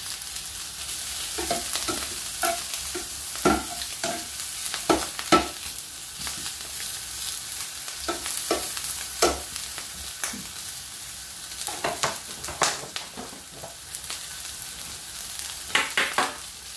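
Chopped vegetables for a vegetable couscous sizzle gently in a hot pan as a utensil stirs and scrapes them. The scraping strokes are irregular and close over a steady low frying hiss, and no one speaks.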